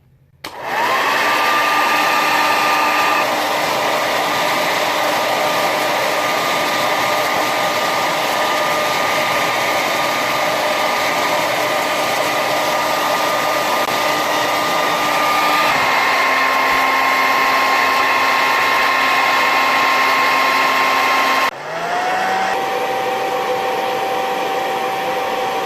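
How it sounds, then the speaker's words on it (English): A hair dryer blows steadily and loudly at close range onto a small DIY Christmas ornament, holding a constant whine that shifts pitch twice as the setting or angle changes, with no talk. "you turn on your hairdryer and you put it like this"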